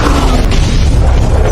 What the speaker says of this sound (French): une explosion survint.